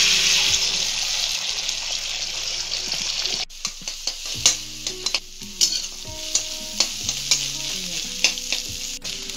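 Steady loud sizzling of eggs frying in hot oil for egg tadka, followed by scattered clinks and scrapes of a utensil stirring in the pan.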